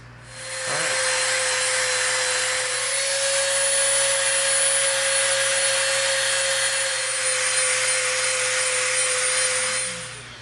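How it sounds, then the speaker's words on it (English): A Dremel rotary tool grinds the edges of EVA foam with a steady high-pitched whine and a gritty abrasive hiss, spinning up at the start and winding down near the end, close and loud with no speech. "it's easy to come in with the Dremel and just tear off the edges"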